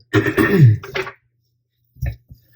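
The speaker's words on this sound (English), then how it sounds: "excuse me for clearing my throat" A person clears their throat with a rough, gravelly rasp lasting about a second, followed by a shorter, quieter throat-clearing grunt.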